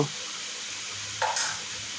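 Sweet pumpkin and shrimp cooking in a frying pan, a steady close sizzle with a brief scraping stir of the spatula partway through.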